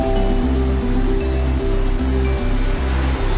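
A water slide in the Deep Sea Zone of Sonic Robo Blast 2 gives off a steady loud rush of water. Looping game music with a pulsing low bassline plays alongside it.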